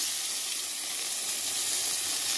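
Medium-sized cut tomato frying in hot oil in a pan after fish, a steady bright sizzle with a constant hiss and no pauses.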